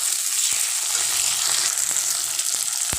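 Tomatoes, onions and chopped green chillies sizzle in oil in a pan, a steady bright hiss with a few soft knocks of a spatula.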